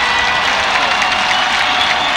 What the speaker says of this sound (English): Hear the Hawk crowd.